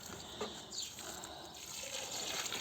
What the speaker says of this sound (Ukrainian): Так, заливай луночки, синок.